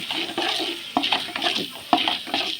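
Onions sizzle and fry in a pan with lentils as a spoon stirs and scrapes through them, a close, steady crackle broken by a few knocks of the utensil against the pan.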